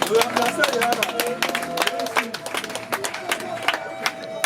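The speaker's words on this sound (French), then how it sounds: "Sous vos applaudissements s'il vous plaît." Guests clap at a customary wedding celebration in Bacongo, sharp hand claps rising over steady tonal music with voices and crowd chatter mixed underneath.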